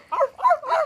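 A dog gives three quick, high yipping barks in a row, close and fairly loud, with short pauses between them.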